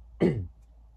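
A single short, close cough with a rough throat-clearing quality bursts out once, then fades into quiet room noise.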